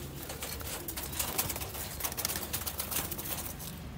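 Sialkoti pigeons, a rare rooftop breed including females, coo softly at close range, a low throaty murmur repeating over a steady background hiss.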